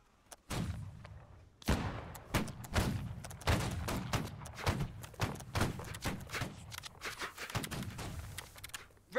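Musket volley fire during a line battle in the video game Holdfast: Nations At War. Scattered, irregular gunshots crack out one after another as independent fire, some near and loud, others fainter, with no talking.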